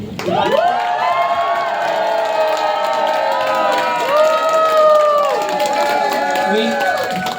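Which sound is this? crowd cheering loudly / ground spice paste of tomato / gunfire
crowd cheering loudly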